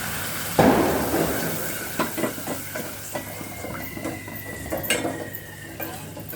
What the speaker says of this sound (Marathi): चांगला थोडासा लालसर झालं का त्याच्यामध्ये मी टाकते दूध।